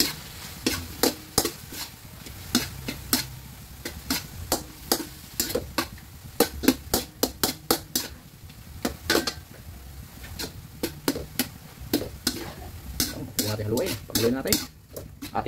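Hotdogs drop into a pot and get stirred, with repeated sharp metallic clanks and scrapes of a utensil against the pot over a low simmering sizzle, strikes coming in quick irregular bursts.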